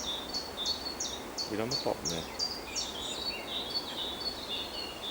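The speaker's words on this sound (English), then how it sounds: "There's a lot of birds singing still." Woodland birds, including a robin among small oak trees, sing a repeated series of bright, high chirps close by, while a person speaks briefly.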